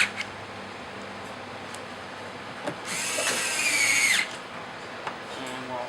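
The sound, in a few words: power drill driving factory screws back in on Porsche 997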